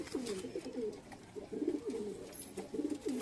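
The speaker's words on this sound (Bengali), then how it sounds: "আমি ছেড়ে কবুতর দেখাচ্ছি" Madrasi beading pigeons coo at close range in three soft, rolling bursts with brief pauses between them, and nothing else is heard.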